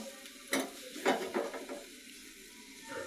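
Taro stolons frying with shrimp and tomato in a pan give a faint steady sizzle, broken by a few sharp spoon-and-pan stirring clacks and scrapes.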